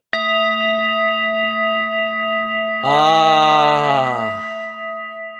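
A sustained metallic ring hangs in the air, then a second louder strike blooms with rich shimmering overtones and slowly decays; no voices.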